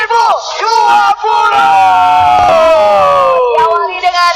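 Loud crowd cheering and whooping for the Persib Bandung football team at a team presentation, with sustained yelling voices rising and falling continuously throughout.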